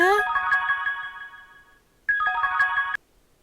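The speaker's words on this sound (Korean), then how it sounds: "전화 왔다" Melodic mobile phone ringtone inside a mobile dating game, playing a sustained chiming tune for about two seconds, pausing, then sounding again briefly before cutting off; loud and clear with no talk over it.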